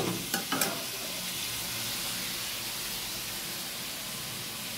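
Bottle gourd with shrimp, pumpkin, potato, five-spice, dried chili and tomato frying in a pan, giving a steady, even sizzle throughout, with a couple of sharp clatters of stirring near the start.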